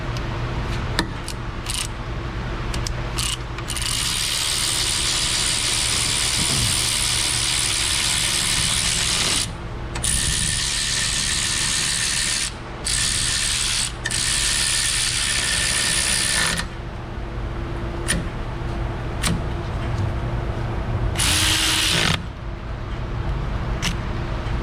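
Ratchet tightening bolts on a GMC Savana 2500 van, repeated bursts of metallic clicking against a loud steady shop hiss and hum, close.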